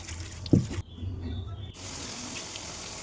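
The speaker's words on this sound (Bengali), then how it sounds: "এবার দেখো ধুয়ে নিচ্ছি।" Cut pieces of jackfruit being washed under running water from a tap into a sink, a steady gush with a brief splash near the start and a quieter stretch in the middle.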